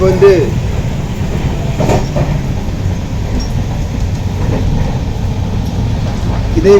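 An Indian Railways passenger train runs with a loud continuous rumble and a rhythmic rattle from the carriage, heard from inside, with occasional clanks and no voice over it.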